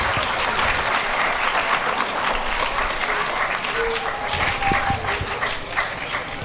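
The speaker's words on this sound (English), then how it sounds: "give another round of applause and thank Eliana and Kylie for their hard work" A round of applause from an audience at a Hmong New Year evening event, a steady dense patter of many hands held at an even level, with a few faint voices mixed in.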